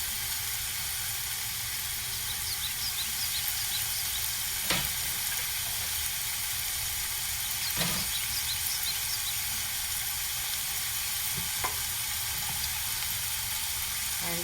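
Cabbage and spring onion stir-frying in a hot pan for vegetable noodles, a steady hissing sizzle throughout with a few sharp stirring knocks, close and even, no voices.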